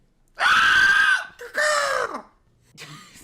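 A person's voice imitates a bird's shriek, giving two loud, strained screeching cries in quick succession, with a fainter third cry beginning at the end.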